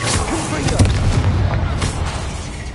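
Confringo blasting-curse explosions in the PS5 game Hogwarts Legacy, loud booming blasts and crackling bursts with a voice talking over them.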